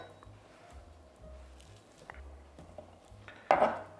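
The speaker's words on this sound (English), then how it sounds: "So let's chop this." A kitchen knife chops fresh herbs on a board in short, quick, soft taps, closely spaced and near, ending with a louder clatter.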